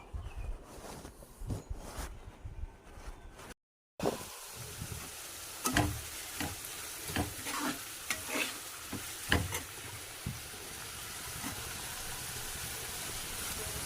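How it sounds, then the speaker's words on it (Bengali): Onions frying in a pan, a steady close sizzle with repeated scraping stirs of a utensil, preceded by brief clattering handling and a short silence. "এইগুলোকে এখন পুরো আমি ভেজে নেব, সবটা ভেজে রেখে দেবো"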